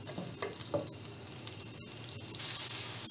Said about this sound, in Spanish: La voy a sofreír un poco.